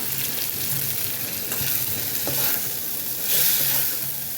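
Dried shrimp powder fries with spices in a pan, giving a steady, dense sizzle close by while a utensil stirs it in soft scraping passes, with no voices.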